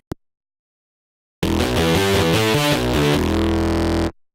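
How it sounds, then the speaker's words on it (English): A heavily distorted synth bass plays a gritty, buzzing riff, loud and upfront, cutting off abruptly after a few seconds. "I have this bass sound. And it already has distortion on it"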